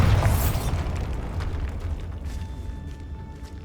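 The Bombarda blasting spell goes off in Hogwarts Legacy: a loud, close explosive burst at the start, then a rumbling decay that fades over a few seconds, with faint tonal game effects near the end.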